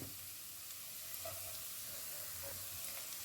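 Chopped garlic with onion sizzles in a frying pan during stir frying, a steady bright hiss with occasional soft scrapes of stirring, close and uninterrupted.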